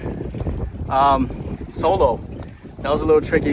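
Wind rumbles across the microphone and water moves around an O'Day Osprey daysailer sailing with both sails up after launching from a beach. Someone talks over the wind for most of the clip.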